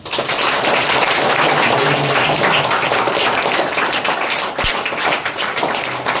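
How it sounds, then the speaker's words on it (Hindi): An audience at an agricultural training session breaks into loud, sustained applause, a dense close patter of many hands clapping steadily with a single thump near the end. "माशाल्लाह, इनके लिए तालियां हो जाए"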